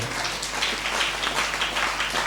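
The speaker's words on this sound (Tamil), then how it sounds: "கைத்தட்டுங்க, ஓங்கி கைத்தட்டுங்க." A church congregation at a healing worship service claps together in a dense, steady burst of applause that fills the room, with no talk over it.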